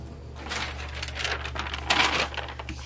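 A sheet of paper is pulled out and handled at a crafting table, giving close, soft rustling and crinkling with a few sharper flicks over a low steady hum.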